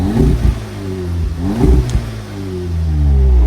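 An Audi S3 2.0 FSI engine with stock exhaust revs up and down repeatedly in several quick blips, a loud, close growl with no talking.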